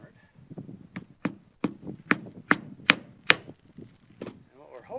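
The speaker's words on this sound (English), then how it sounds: "Hammer it." A hammer drives nails into roof shingles in a steady series of about nine sharp, fairly close knocks, with faint voices and rustling between the strikes.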